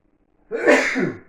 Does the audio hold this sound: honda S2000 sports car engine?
no